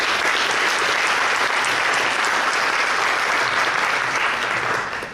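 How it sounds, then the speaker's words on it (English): Loud, continuous applause from a crowd, even and full for several seconds before beginning to taper at the very end. "Let's give them a round of applause."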